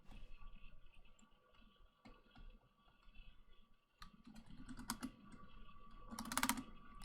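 Computer keyboard typing while playing The Stanley Parable, the key 0 pressed repeatedly: scattered clicks that start faint and grow denser and louder, ending in a quick, loud flurry of keystrokes.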